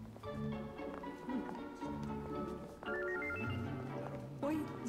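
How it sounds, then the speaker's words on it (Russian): A telephone rings indoors in a Russian drama film, a melodic tone repeating in short bursts, with voices heard around it. "звонок"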